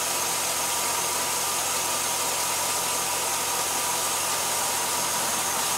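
A 12-volt car engine runs steadily near 2500 RPM during a loaded battery test, a continuous broadband hum and hiss with no talk, holding even throughout.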